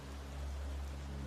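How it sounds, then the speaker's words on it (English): Steady rain in a forest near a river, a soft even hiss of falling drops with a low rushing undertone, faint and continuous with no voices. "The sound of flowing water grows nearer with every step, mingling with the steady rain."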